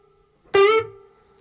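After a brief silence, a short, clipped electric guitar note is plucked and quickly bent upward in pitch, then cut off abruptly: a staccato string bend.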